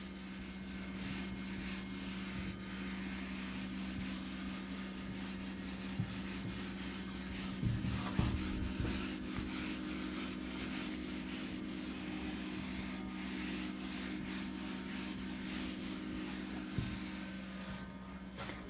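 Writing is wiped off a board with repeated scratchy rubbing strokes, a close, fairly quiet rhythmic scrubbing that continues for almost twenty seconds with a faint steady hum behind it.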